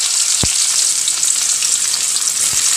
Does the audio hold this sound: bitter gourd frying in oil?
yes